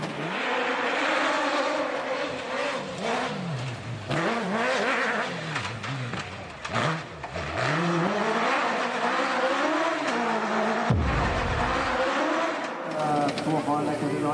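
Rally cars racing on a mountain stage of the Rallye des Cimes, their engines revving and rising and falling continuously throughout, under steady commentary talk.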